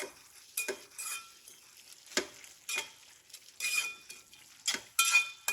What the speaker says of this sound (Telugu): ఇప్పుడు ఉప్పు కారం వేసి కలుపుకున్నాం